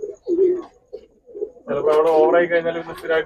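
Pigeons coo in low, rounded bursts, the later calls louder and overlapping, with a voice talking briefly at the start.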